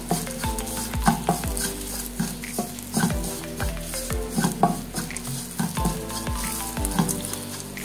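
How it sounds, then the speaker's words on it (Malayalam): Curry leaves sizzle steadily in oil in a frying pan while a spoon stirs, scraping and tapping the pan at a regular rhythm, close and clear. "കറിവേപ്പില ഇട്ട് കൊടുക്കാം. എന്നിട്ട് ഇളക്കി കൊടുക്കുക."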